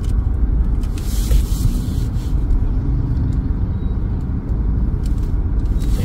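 Busy street traffic in Santo Domingo, Nueva Ecija, with a motorized tricycle holding up the road ahead; a loud, continuous low engine rumble from close vehicles, with faint brief talk.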